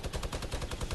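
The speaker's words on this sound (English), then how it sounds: "I'm shooting at him?" Rapid automatic gunfire in a shooter video game, a dense steady burst of about a dozen shots per second filling the whole moment, loud and continuous with no voices over it.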